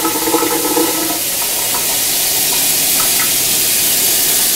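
Steady, loud rushing hiss of hot water pouring into a blender, with some faint bubbling early on, continuous with no voices.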